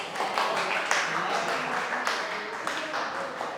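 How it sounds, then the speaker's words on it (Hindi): Classroom applause for a student: a room of people clapping steadily at moderate volume, with overlapping claps and speech mixed in underneath. "चलो धीरज के लिए एक और बार ताली बजा दो।"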